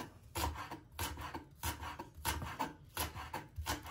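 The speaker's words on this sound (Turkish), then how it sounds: "Taze soğanlarımızı da ince ince kıyıyorum." A knife chops spring onions on a cutting board, making soft, quiet, rhythmic scraping chops in quick bursts with short pauses between them, and no one speaking.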